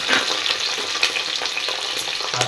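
Carrots, green chillies, peas, beans and capsicum fry in a hot pan with a steady, close crackling sizzle and occasional stirring scrapes, no voices.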